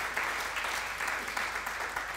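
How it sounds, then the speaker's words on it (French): A church congregation claps continuously in a dense, even wash of applause, moderately loud and roomy, lasting a couple of seconds. "Est-ce que quelqu'un peut acclamer le Seigneur?"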